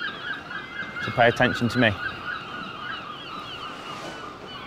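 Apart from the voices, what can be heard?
seagull calling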